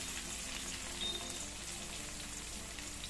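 Spices sizzle in a pan with tomato, green chilies, peanuts and cashews, giving a soft, steady, quiet hiss with faint crackles and no talking.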